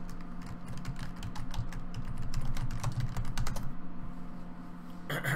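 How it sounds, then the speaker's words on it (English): Rapid keyboard typing on a computer, a steady stream of close, crisp key clicks with a constant low hum underneath and a brief pause near the end; no one speaks. "I'm gonna go ahead and type up cryptocurrency news"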